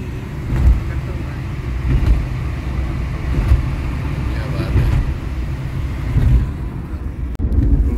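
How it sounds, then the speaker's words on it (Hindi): Dense Delhi traffic rumbles around a moving Ola cab, a steady low drone of engines and road noise heard from inside the car, with a voice talking over it. "अभी हम बैठे हैं ओला के कैब में, काफ़ी ज़्यादा ट्रैफिक है"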